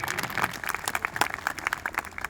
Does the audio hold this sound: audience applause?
yes